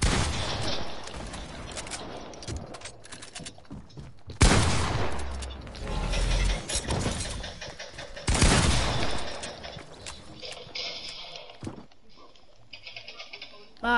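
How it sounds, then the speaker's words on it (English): Grenade launchers and other weapons fire in an online multiplayer video game, with dense rapid bursts of gunfire, loud blasts at intervals and a busy, crackling battle mix throughout. "Grenade launchers."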